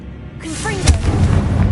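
Confringo blasting spell cast in the Hogwarts Legacy video game, a sudden booming burst with whooshing rising tones, followed by a sustained rumbling roar close up, starting after a brief quiet moment.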